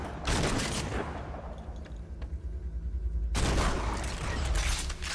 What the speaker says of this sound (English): It's a plasma turret, that's what it is.